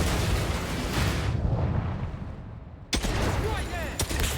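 Video game gunfire in a tense firefight, a dense burst of shots and explosions that fades toward silence, then sharp shots resume near the end.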